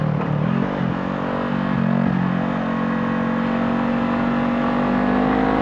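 A Honda CBR 500 motorcycle on a track screams up toward redline, a loud, steady, high engine drone that climbs in pitch, heard close from the rider's position.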